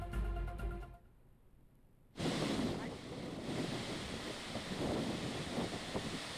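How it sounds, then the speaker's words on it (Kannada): A brief voice at the start gives way to a quiet pause, then the loud, continuous rush of Gokak Falls in Belagavi, swollen by monsoon rain, roars on without letup. "ಗೋಕಾಕ್ ಫಾಲ್ಸ್ ನಿರಂತರವಾದಂತಹ ಮಳೆ ಹಿನ್ನೆಲೆ ಅತ್ಯದ್ಭುತವಾಗಿ ಮೈದುಂಬಿ ಹರಿತಾ ಇದೆ"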